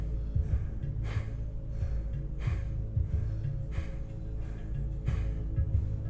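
Slow, steady breaths repeat in a regular rhythm, each one a soft airy rush over a constant low hum.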